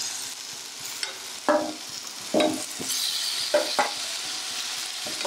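Garlic and onion fry in a pan with a bright, continuous sizzle, and several distinct scraping strokes of a spatula come through close up.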